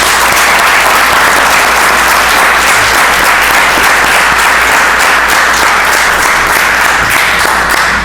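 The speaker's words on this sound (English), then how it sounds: "How about a round of applause for our scouts?" Loud, dense applause from a council meeting audience in Salem, Massachusetts fills the room for a troop of scouts, a continuous wash of many hands clapping at close range with no break.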